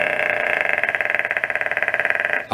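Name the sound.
voice imitation made by inhaling while vibrating vocal cords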